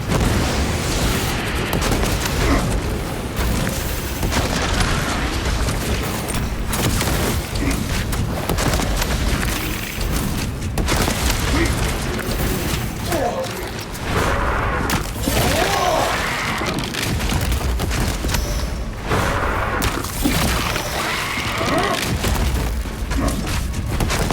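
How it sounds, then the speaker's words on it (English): A frag grenade blows up amid constant, dense battlefield noise in Warhammer 40K Space Marine 2, with loud booms and gunfire layered over one another throughout. "Throwing frag grenade."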